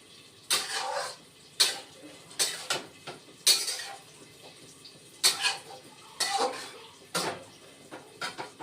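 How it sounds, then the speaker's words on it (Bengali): Metal spatula scraping and clanking against a pan as cabbage curry is stir-fried with salt, sharp irregular strokes about once a second, close and clear with no talking. "লবণ দিয়ে এখন আরও কিছুক্ষণ কষিয়ে নেব"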